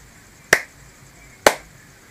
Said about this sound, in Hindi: फिर से ताली बजाइए।